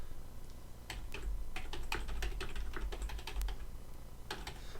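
Rapid, uneven clatter of keys on a computer keyboard, close and fairly loud, with short bursts and brief pauses and no talking.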